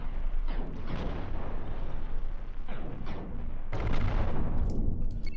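Enemy ship guns firing in the space combat game Cosmoteer: dense, dull booming volleys and rumbling blasts layered over one another, loud and continuous with a sharper burst near the end.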